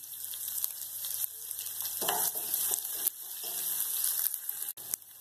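Onions sizzling steadily in a pan during preparation of a vegetarian feast, a close, even frying hiss with occasional soft stirring knocks and no talk.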